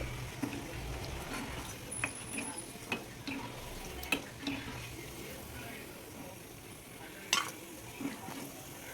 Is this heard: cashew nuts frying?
yes